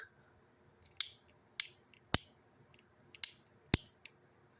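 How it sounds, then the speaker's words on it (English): Several sharp metallic clicks at irregular intervals, crisp and close, against near silence. "you can hear the clicking springs in it work"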